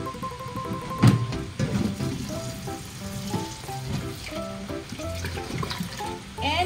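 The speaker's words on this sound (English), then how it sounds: "final rinsing should be under running water" Running water splashes and trickles while feeding bottles are rinsed under a tap, with intermittent clinks and sloshing bursts at moderate level, no talking.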